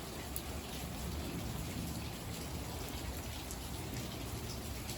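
Steady rainstorm falling outdoors, a dense even hiss of raindrops on surfaces with no breaks, moderately quiet and continuous throughout.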